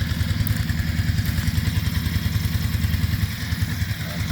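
Farm machine engine driving a rotary tiller, running steadily with a close, loud, rapid chugging clatter that holds an even rhythm throughout, with no talk.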